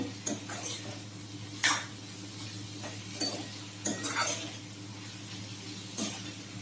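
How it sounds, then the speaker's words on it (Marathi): Pumpkin curry cooking in a pan, stirred with a spoon: occasional scraping clinks against metal over a soft steady simmer, close and fairly quiet, no speech. "मध्ये मध्ये भोपळा हलवत राहायचा आहे।"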